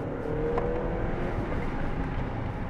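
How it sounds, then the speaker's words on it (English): A 2025 Jetour T2 turbocharged SUV on the road, with a brief turbo flutter hiss followed by steady engine and road noise as it accelerates, heard from inside the cabin. "you can definitely hear that turbo flutter, a little tiss sound, and then accelerating"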